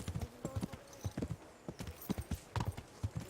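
Horse hooves clip-clop in a steady, uneven gait in Kingdom Come: Deliverance, close and distinct, with a brief whinny-like tone among the footfalls.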